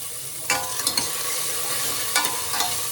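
Banana stem sautéing in a pan with curry leaves and salt, a steady close sizzle broken by a few sharp scrapes and clinks of stirring; no talking.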